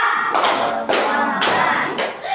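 Four sharp hand claps land at a steady rhythm as part of a classroom clapping chant, loud and close with brief ringing after each.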